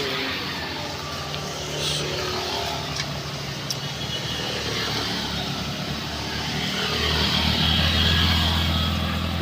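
A Mitsubishi L300 pickup's engine revs and strains up a slippery slope slicked with spilled palm oil. It gives a sustained low roar that swells louder toward the end, with no one talking.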